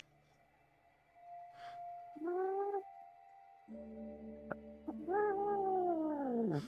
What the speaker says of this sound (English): William, your cat.